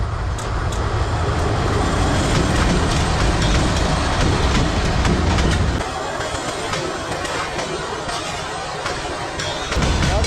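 A train passing close by, a loud continuous rumble with rhythmic wheel clatter, its pitch and weight shifting as the cars roll past over about ten seconds.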